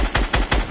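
Gunfire in a fast-paced building shooter: four quick, loud, evenly spaced shots that punch through in a short rhythmic burst.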